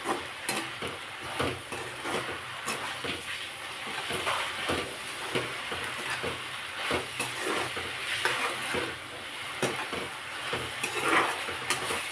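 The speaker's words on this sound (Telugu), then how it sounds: "కొంచెం పసుపు వేసి ఒకసారి కలుపుకుందాం" Turmeric being stirred into amaranth leaf (thotakura) curry as it fries in a pan, giving a steady close sizzle with repeated scraping strokes of the spoon throughout.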